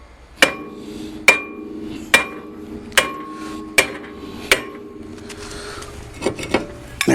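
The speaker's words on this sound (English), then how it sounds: "you'd want to hit the hammer between the studs for the lug nuts" A hammer strikes a metal front brake rotor on a Honda Accord seven times at a steady, slow rhythm, each blow ringing briefly, followed by a few lighter knocks.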